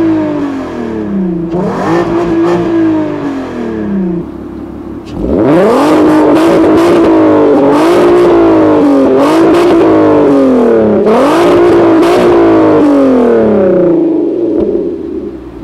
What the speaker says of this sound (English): we should talk about the exhaust note.